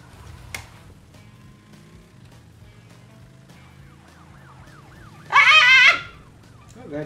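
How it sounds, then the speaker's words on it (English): A police car siren wails in the Crash Bandicoot 3 Warped video game, rising and falling sweeps building to a loud burst near the end among game sounds. "Get out of the way, police car!"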